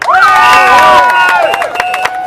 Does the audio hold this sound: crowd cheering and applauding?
yes